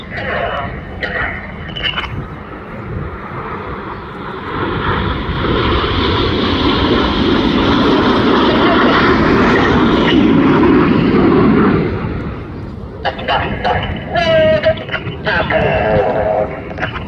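RAF Red Arrows display jets at the Midlands Air Festival roar past in a loud swelling pass that builds and fades over several seconds, with a commentator talking over it.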